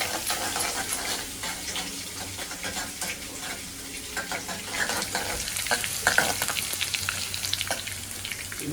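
Curry leaves and crushed garlic sizzling in hot oil while a spoon stirs them in the pan, a steady crackling fry with scraping and occasional louder pops, no talking.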